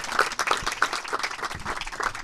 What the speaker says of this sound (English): I think a round of applause for Nigel Stafford-Clark.